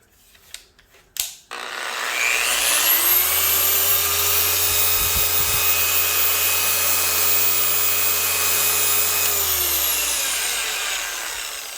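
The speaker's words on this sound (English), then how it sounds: "I'm going to take my Rupes big claw tool, and I'm going to turn this on and just kind of spin this out here." A Rupes Big Claw rotary tool switches on with a rising whine, runs steadily at high speed for about ten seconds while spinning a pad on gloss piano black car pillars, then winds down near the end.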